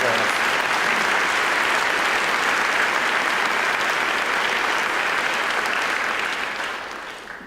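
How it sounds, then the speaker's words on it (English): Loud, dense applause from a large audience at a State of the City address, sustained and steady before tapering off at the end. "Would you all please join me in giving the McCanns a round of applause?"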